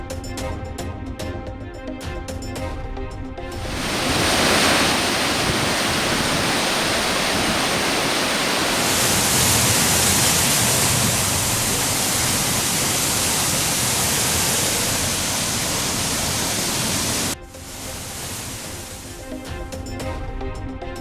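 Courtallam waterfalls roar in flood after continuous rain, a loud, steady broadband rush of crashing water held for over ten seconds between quieter stretches at either end.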